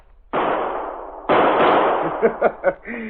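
Gunshots fired at a sleeping man in a radio drama, heard as two long, harsh bursts of blasting noise followed by a quick string of sharper pops, close and loud.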